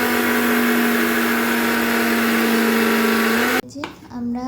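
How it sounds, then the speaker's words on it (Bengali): An electric blender grinds a 50-gram packet of dry poppy seeds with a loud, steady, close motor whine for several seconds, then cuts off abruptly, leaving brief softer noise afterward. "এই যে 1 প্যাকেট 50 গ্রাম মতো পোস্ত পুরোটা দিয়ে বাটা হবে এখানে।"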